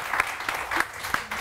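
Studio audience on a morning television show clapping in quick bursts, a handful of sharp claps spread across a brief moment, fairly close and moderately loud.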